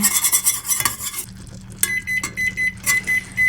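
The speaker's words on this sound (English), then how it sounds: "I just keep stirring while it's boiling." A spoon scraping and clinking against a metal pot of boiling mixture in steady strokes, with hissing bubbling and a high beeping tone partway through.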